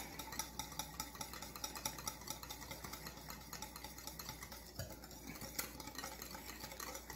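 A whisk stirs a French toast egg mixture while spiced sugar is sprinkled in, giving a steady, fast scraping and swishing that runs close and fairly quiet throughout.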